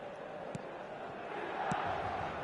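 A stadium crowd in the eFootball game gives a steady, distant roar that swells slightly toward the end, with a couple of sharp thuds standing out briefly.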